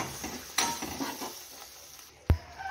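Masala simmering in a pot with added water for a bhindi (okra) rassa curry, a spoon scraping and clinking against the metal as it is stirred, with one sharp clank near the end; no talking.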